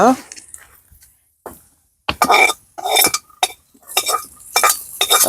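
Food is stirred in a pot at a farmhouse kitchen, with cashews and raisins among the ingredients: a series of close scraping, clinking strokes of a utensil against metal come in bursts, with a cough and some voices in between.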